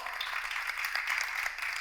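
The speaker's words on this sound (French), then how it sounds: "C'est bien la boisson énergétique King Lion, qu'on applaudit très fort" Studio audience applause on a French television show, a brief steady wash of clapping lasting under two seconds with no voices over it.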